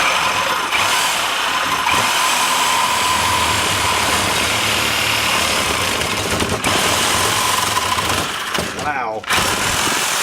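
A power tool runs continuously while cutting motorcycle exhaust pipe for a Cafe Racer project, a loud sustained grinding roar with a brief dip and surge near the end.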